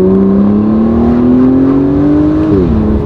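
An Aston Martin Vanquish engine heard through an open car window holds a loud, steady drone that climbs gradually in pitch, then dips sharply as revs drop near the end; no talking over it.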